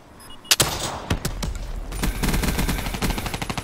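Rapid automatic gunfire in Call of Duty: Black Ops III, with a few sharp single shots giving way to a dense, steady burst of close, loud rounds and no talk over it.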